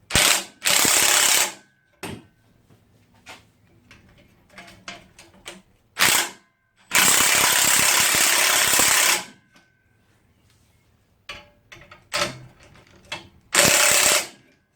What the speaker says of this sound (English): I don't really want to be compressing that spring.